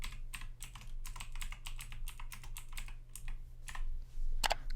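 Rapid keystrokes on a computer keyboard while an email address and password are entered at a PC sign-in screen, a close, continuous run of sharp clicks with a low steady hum beneath and no voices.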